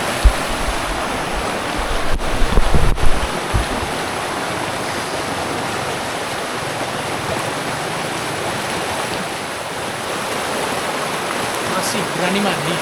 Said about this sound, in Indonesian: Ini dia suasana sore kita di tepi sungai yang jernih